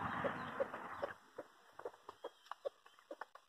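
Short, soft clucks of a yellow hen repeat irregularly at close range, following a brief burst of broadband noise at the start.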